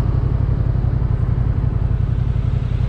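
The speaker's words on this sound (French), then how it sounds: "Je commence par le bruit du moteur qui est sensationnel." A Honda Transalp 750 motorcycle engine idles steadily nearby, a low, even rumble with a fast pulsing throb.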